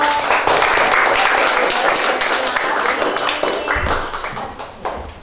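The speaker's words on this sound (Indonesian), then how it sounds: "Oke, kasih aplaus buat kelompok." A classroom group receives a round of applause after presenting, a dense burst of many hands clapping that holds steady and then tapers off over several seconds.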